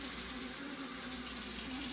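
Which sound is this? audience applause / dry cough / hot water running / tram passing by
hot water running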